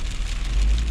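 Rain and hail pelting a car during a Melbourne hailstorm, a loud, dense patter of impacts over a low rumble, with no talk.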